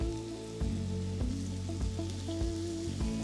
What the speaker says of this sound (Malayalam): ഒരു ലൈറ്റ് ബ്രൗൺ കളർ ആകുന്ന വരെ വഴറ്റുക